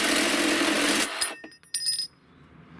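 Lengths being cut with a Bosch power saw, a loud steady whine that stops abruptly, followed by short clinks and a brief second burst of the tool before quiet.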